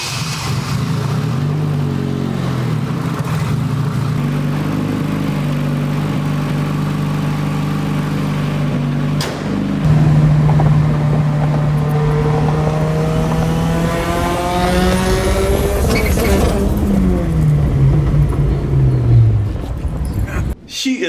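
A Chevy Cruze Turbo pulls away and accelerates, its engine note droning low and then climbing in pitch through rising revs and gear changes, loud and close, with talk and other noise over it.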